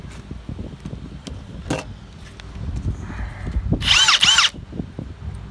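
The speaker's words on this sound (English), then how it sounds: "you can just put it in the drill that's right here" A cordless drill whirs in a short, loud burst amid light clattering and handling noises, with no speech.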